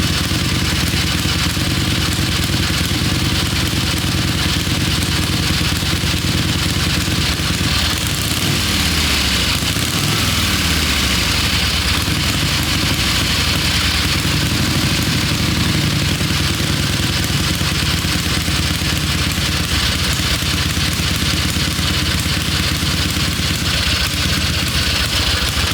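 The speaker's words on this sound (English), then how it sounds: "1918 Harley Davidson military machine, completely original condition" A 1918 Harley-Davidson military motorcycle in completely original condition runs at idle, a loud, close, continuous mechanical clatter and engine throb that holds steady for about half a minute.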